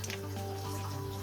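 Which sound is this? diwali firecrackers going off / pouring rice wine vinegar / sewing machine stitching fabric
pouring rice wine vinegar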